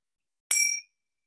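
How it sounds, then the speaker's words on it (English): A single bright bell chime rings once to open a meditation session, a short clear clink with a ringing tone that fades in under half a second, followed by silence. "with the sound of this, the bells"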